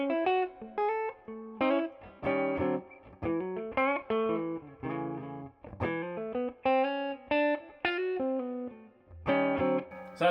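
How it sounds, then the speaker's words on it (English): Electric guitar through a Two Rock Bloomfield Drive amp, chords and picked notes in a steady rhythm with a touch of springy reverb tail from spring reverb set low, loud and close, no voices. "I've got the spring reverb on around 10 o'clock, so we've only got a little bit of reverb going on."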